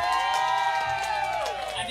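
A crowd cheers and claps for a band at an outdoor gathering, with whoops and shouting voices riding over steady, dense applause that holds throughout.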